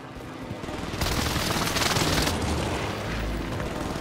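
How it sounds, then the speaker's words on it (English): Airstrike explosions in a military video game, a dense rumbling burst of blasts that swells after the first second and rolls on loudly to the end, with no talk over it. "Airstrike target marked."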